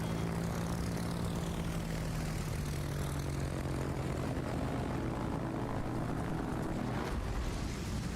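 Steady propeller aircraft drone from Shokaku carrier planes in the video game World of Warships, a continuous engine hum with a slowly falling pitch and broad wind noise, no talk.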